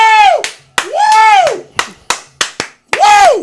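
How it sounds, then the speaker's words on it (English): A small podcast studio audience gives scattered, separate claps between loud, drawn-out vocal woo shouts, close and lively. "Hey, you guys could clap."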